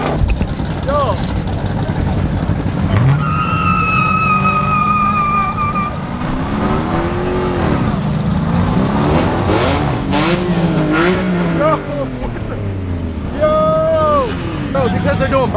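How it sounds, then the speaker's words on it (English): At a car meet, engines rev hard and rise and fall in pitch during tire burnouts, with squealing, whining tones mixed into a continuous loud roar while people talk nearby. "they're doing burnouts. With the tires"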